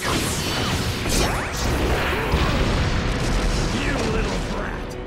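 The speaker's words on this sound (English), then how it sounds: "Fire style! Phoenix Fire Jutsu!" Booming, whooshing fire blasts of the Phoenix Fire Jutsu in Naruto Shippuden Ultimate Ninja Storm 4: a dense, continuous roar of crashing impacts and swishes under loud shouted voices.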